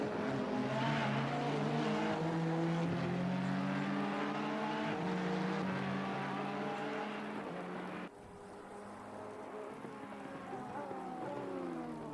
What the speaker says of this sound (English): We have DeMarco in the 51 Ferrari trying to pass the 16 Honda through turn 4. Into turn 5 they go